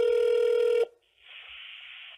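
A single sustained telephone keypad tone rings loudly for under a second on a line to a voicemail report service, then cuts out and a softer, steady line hiss or ringback follows.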